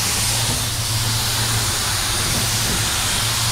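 A spray gun lays candy red paint onto a car fender, giving a steady, loud, unbroken hiss of air and atomized paint from start to finish.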